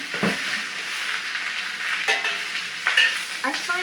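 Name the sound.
choy sum vegetables stir-frying in a pan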